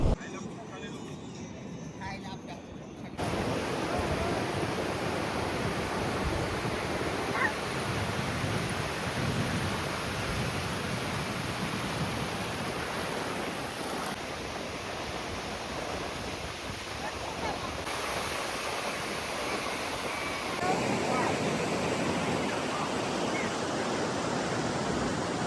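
Steady, broad rush of ocean surf at Bakkhali sea beach, continuous and fairly loud throughout, with little sign of distinct breaking waves.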